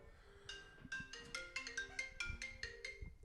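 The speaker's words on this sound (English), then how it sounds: "We're getting a phone call." A phone ringtone for an incoming call plays during a podcast recording: a bright, melodic electronic chime of quick repeating notes, fairly clear and close, with no one talking over it.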